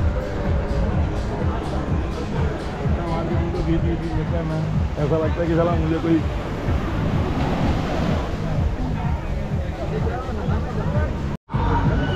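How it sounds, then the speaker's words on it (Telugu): Ocean waves wash up on Anjuna beach in Goa, making a steady, loud roar of surf and wind that runs through the whole stretch. Crowd babble sits underneath, and there is a brief dropout near the end. "అలలు ఇక్కడ వరకు వచ్చేస్తున్నాయండి, మామూలుగా రావట్లేదు, ఇక్కడ వరకు వచ్చేస్తున్నాయి అలలు."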